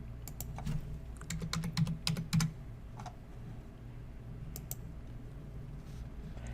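Quiet typing on a computer keyboard as a packing slip number is entered, with bursts of light clicking keystrokes in quick irregular runs over a steady low background hum, then sparse single taps.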